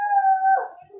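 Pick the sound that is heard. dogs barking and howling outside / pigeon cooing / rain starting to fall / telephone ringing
dogs barking and howling outside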